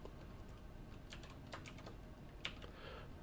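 Quiet keystrokes on a computer keyboard sound in a short irregular run of clicks, faint and close, with no talking.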